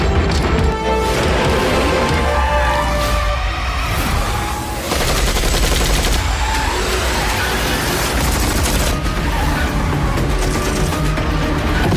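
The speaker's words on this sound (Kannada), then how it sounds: "ಏಷ್ಯಾದಲ್ಲಿ ಇದೇ first time ಪ್ಯಾರಾಶೂಟ್ಗಳಲ್ಲಿ gun firing sequence" Loud, dense movie action sequence of gunfire with parachutes, rapid bursts and fusillades layered over a heavy rumbling score and crashes, continuous throughout without speech.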